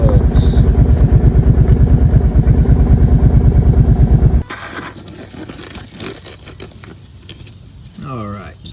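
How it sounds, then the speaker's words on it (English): A warmed-up Kawasaki Prairie 700 ATV engine idles loudly and close with a steady, fast pulsing throb, then cuts off about halfway. Quieter handling noises and faint voices follow. "just got her warmed up so the oil comes out just a hair bit easier"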